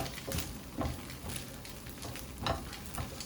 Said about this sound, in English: So we're just gonna saute these till they're tender.